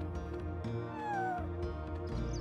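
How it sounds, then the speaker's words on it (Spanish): Cats meowing in the video game Chrono Cross, a few short mews rising over steady game music that plays throughout. "Él puede interactuar con los gatitos."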